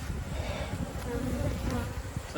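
Honey bees, agitated and unhappy during a hive inspection, buzz in a dense continuous hum close by, steady and fairly quiet with no voices.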